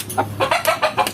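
A Brugo chicken suffering from a cough and cold clucks loudly and close by in a quick rhythmic run of about six calls.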